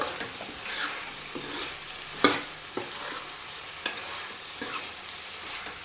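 Chicken coated with chili powder is stirred in a sizzling pan for a gravy curry, with a continuous frying hiss broken by several sharp scraping clicks of the spoon, close up and with no talking.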